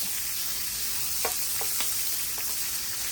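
Jumbo shrimp frying in butter in a pan over medium-high heat, a steady close sizzle with a few soft clicks and taps as pieces are flipped over.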